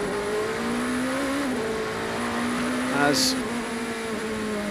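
A number 38 endurance race car at the 6 Hours of Nürburgring runs steadily off full throttle, a sustained engine drone with slight pitch shifts, under a commentator's voice.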